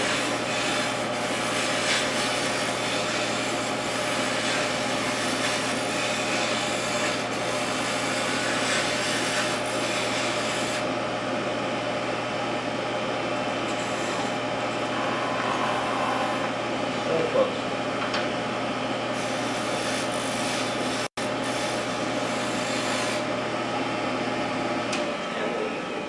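Wood lathe turning a goblet, a gouge held like a skew with its bevel rubbing the spinning wood, giving a steady grinding hiss over a continuous motor hum and drone, with a brief pause near the end.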